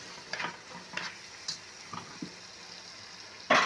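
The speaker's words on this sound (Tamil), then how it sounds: "4 வெண்டைக்காய், 2 கத்தரிக்காய் போட்டு அதையும் நல்லா எண்ணெயில் வதக்கிடுங்க" Okra and brinjal sauté in hot oil in a pan, with a soft steady sizzle broken by a few sharp clinks and scrapes of stirring, ending in a louder burst of frying.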